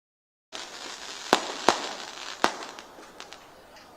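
After a moment of silence, a few firecrackers crack sharply nearby at a public political rally, three clear bangs followed by fainter pops trailing off into steady noise.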